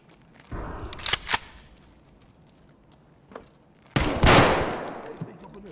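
Bursts of gunfire in an Escape from Tarkov scav raid: a loud volley near the start, a brief isolated shot midway, then a longer, heavier sustained burst toward the end, with quiet gaps between.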